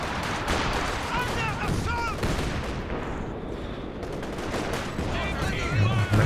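Sustained machine gun fire in a Company of Heroes 2 World War II battle, a dense rattling stream of rapid shots with artillery-like thumps underneath, steady and loud throughout.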